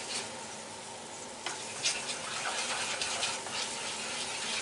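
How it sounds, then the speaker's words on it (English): Homemade Hamburger Helper sauce being stirred in a pan, a steady soft sizzle with faint scraping and sloshing strokes throughout, fairly close and alone with no voices. "And I'm just stirring this, make sure everything is all incorporated."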